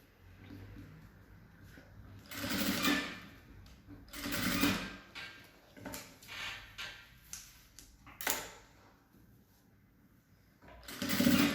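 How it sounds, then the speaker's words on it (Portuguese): A sewing machine stitches fabric for a car trash bag in several short bursts of whirring, starting and stopping close by with quiet pauses between runs. "Bota tudo lá pra dentro e vem costurando."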